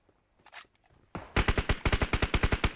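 Automatic gunfire in a shooter video game, with a few faint shots at first and then a loud, rapid burst of about a dozen evenly spaced cracks fired close by.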